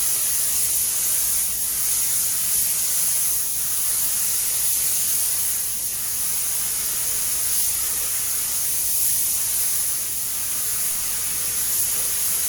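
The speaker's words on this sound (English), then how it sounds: "So this is the last coat I'm applying of lacquer here." Lacquer coat sprayed onto a repaired rusty wheel arch of a Ford Fiesta MK7: a steady, close, continuous aerosol hiss held evenly throughout with no speech.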